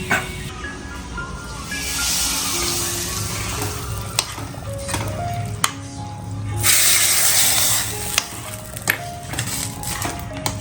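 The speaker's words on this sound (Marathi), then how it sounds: "छानपैकी तडका बसलेला आहे आणि जो बटर आणि लसूण आणि मिरचीचा जो फ्लेवर आहे तो मिक्स झाला" Butter, garlic and chillies crackling in a hot tadka, a loud sizzle with scraping stirs and sharp clinks of a spoon against the pan, swelling into a brighter hiss partway through.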